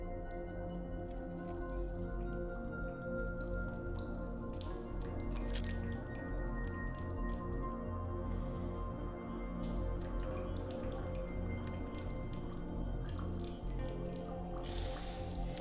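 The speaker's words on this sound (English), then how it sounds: "Ooh, I like the dripping sounds." Steady dripping water echoes through a fungal cave area in the video game Underrail, with irregular wet drips over a low continuous ambient drone, faint and without talking.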